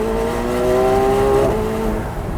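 A 2024 McLaren 750S engine revving loudly at close range during launch control, a steady, high-pitched roar that rises and then begins to drop off at the end.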